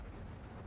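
Incendio fire spell cast in the Hogwarts Legacy video game, a dense, steady roaring whoosh of flame filling the whole moment at even loudness, with no voices over it.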